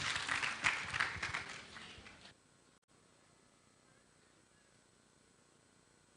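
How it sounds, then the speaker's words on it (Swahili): A congregation at a church funeral ceremony applauds as the pastor comes forward; a burst of moderately loud clapping lasts about two seconds, then drops away to a quiet, hushed room. "Mchungaji makofi anapokuja."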